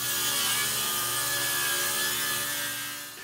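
Walnut wood being cut into thin quarter-inch slices on a power saw makes a loud, steady, close whine of continuous cutting with a slight fade toward the end, no voices.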